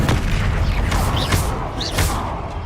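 Bombarda spell explosions in a Harry Potter video game, deep rumbling booms over a dense, noisy background, with a couple of sharper bursts in quick succession.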